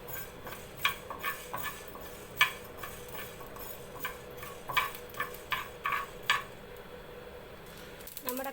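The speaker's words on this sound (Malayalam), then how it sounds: "നമ്മുടെ കടുക് അത്യാവശ്യം പൊട്ടി തുടങ്ങിയിട്ടുണ്ട്." Mustard seeds pop and crackle in a hot pan as they roast, giving sharp scattered ticks at an irregular pace over a low steady background, moderately close and fairly quiet.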